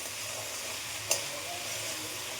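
Pona fish eggs with onion fry in a pan, giving a steady soft sizzle throughout and one brief scrape of stirring near the middle, with no talking.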